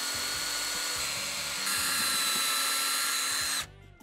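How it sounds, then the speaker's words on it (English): A power drill whines steadily at close range, rising briefly in pitch as it bores through wood, then winds down and stops near the end. "So I'm gonna pre-drill on both sides."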